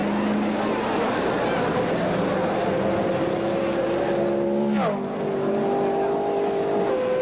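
A Watson-built rear-engined Indy race car at the 1964 Indianapolis 500 time trials, on a fast qualifying lap in gusty wind: a loud, sustained engine drone with a pitch drop near the end as it sweeps past.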